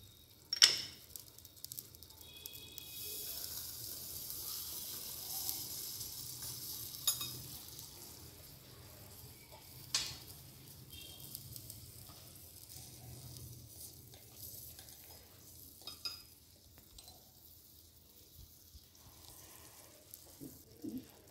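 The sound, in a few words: tomato ketchup sizzling in a miniature frying pan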